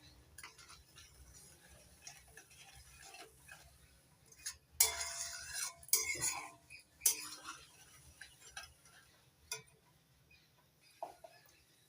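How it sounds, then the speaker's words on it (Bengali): A spoon clicks and scrapes in a pan as chopped tomatoes and sugar are stirred for homemade jelly, irregular close taps and rattles with a few louder bursts. "এবার অনবরত নাড়াচাড়া করে নিব।"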